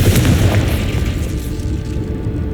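A deep, loud boom from the Confringo fire spell in Hogwarts Legacy, a blast that rumbles at the start and fades into a lingering low tail.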